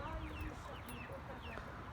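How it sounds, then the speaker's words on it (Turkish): Chickens cluck close by in short, overlapping bursts, with a busy farmyard murmur underneath; a three-year-old rooster is among them. "Horozumuz 3 yaşında bu arada."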